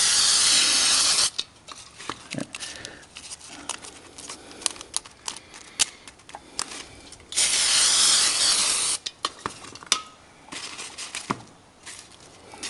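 Indoors on a floor, a spray can hisses in two long, loud bursts of about a second each, separated by quieter rattling and handling noises.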